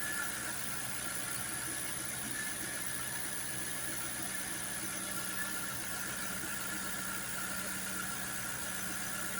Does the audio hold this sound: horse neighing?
no